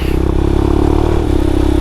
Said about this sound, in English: Engine messing up.